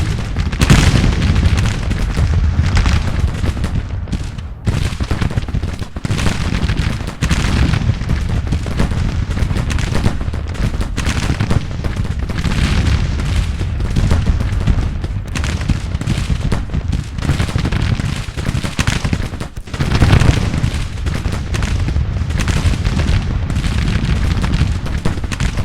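Civil War battle gunfire in the strategy game Grand Tactician, a dense, continuous roar of musketry and booming artillery that keeps up loudly without a break and carries no talk.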